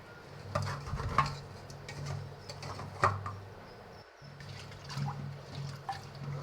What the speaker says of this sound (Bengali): ডাল ধুয়ে নিচ্ছি ডাল বসাবো